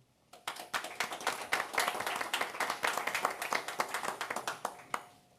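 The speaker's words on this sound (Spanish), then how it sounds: "para quien pido un gran aplauso" Audience applause for a guest from the University of Barcelona's Faculty of Physics at a Mexican-Spanish scientists' panel: a moderate, steady patter of many hands clapping, with crisp individual claps standing out near the microphone.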